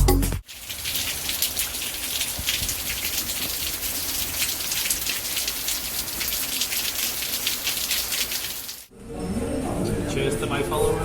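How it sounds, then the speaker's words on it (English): Rain falls steadily in Suwon, South Korea, a dense loud hiss of drops on surfaces that cuts off abruptly before and after, with speech nearby. "we got out the rain just in time"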